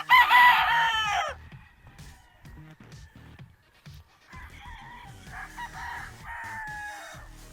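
Roosters of breeding stock, among them a gray straight-comb bird, crow loudly and nearby, one long call at the start and another later, with softer clucking and scattered farmyard sounds between them.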